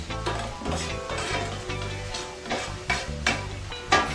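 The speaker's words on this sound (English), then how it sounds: "now you can see that everything is nicely sauteing in the dish" Chopped peppers and scallions sautéing in a pan, a steady close sizzle with repeated stirring scrapes and knocks throughout.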